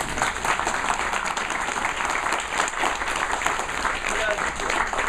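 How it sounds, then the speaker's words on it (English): A crowd claps continuously and loudly throughout, a dense even wash of applause without pauses. "Give a round of applause anyway."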